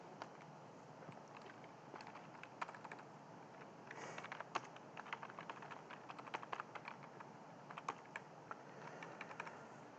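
Steady, close clicking of a computer keyboard as an SQL query is typed, quick irregular keystrokes continuing throughout with no talking.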